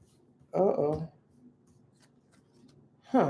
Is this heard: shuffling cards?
yes